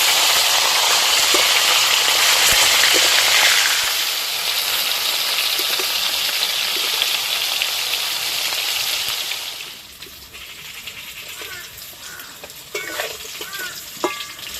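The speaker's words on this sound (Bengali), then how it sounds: "মাছের এক পিঠ ভাজা হয়ে গেছে, এবার মাছগুলো উল্টে দেবো।" Snakehead (shol) fish pieces are turned over in a wok of hot oil, loud sizzling and stirring at first, then the frying settles to a quieter crackle with a few light scrapes and clinks near the end.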